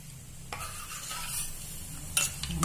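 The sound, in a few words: cashews frying in a pan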